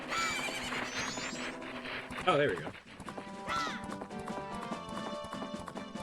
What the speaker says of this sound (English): I got a horse.